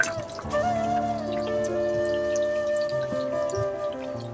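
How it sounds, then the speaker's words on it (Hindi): Water poured from a half glass into a simmering Punjabi chicken curry gravy, a steady liquid trickle and bubbling over a continuous background hum, with no talk. "पानी मैंने इसमें ऐड कर रही हूँ आधा गिलास, यानी कि 100 ml"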